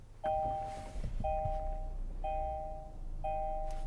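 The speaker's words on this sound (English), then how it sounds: "You have that traditional Kia chime." Startup chime in a 2021 Kia K5 sedan cabin: four identical two-tone electronic dings repeat at a steady one-second rhythm, clear and close over a low hum of the running car.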